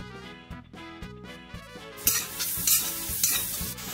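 Onions sliced into half rings dropped into a hot pan after sausages, bursting into a loud, bright sizzle halfway through over a steady tonal musical background, with faint stirring taps.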